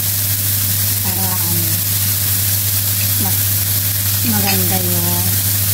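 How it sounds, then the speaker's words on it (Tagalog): Chicken pieces fry in a pan with a steady, close sizzle, while someone talks over the cooking throughout. "lutuin ko lang siya hanggang fully cooked"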